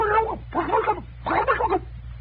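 A voice imitates a turkey gobbling: three warbling, throaty bursts in quick succession over a low steady hum.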